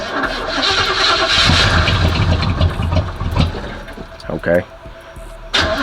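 An Oldsmobile Cutlass engine cranks with a quick stuttering churn after the gas pedal is pumped, then catches, under a loud, busy background with a person speaking briefly.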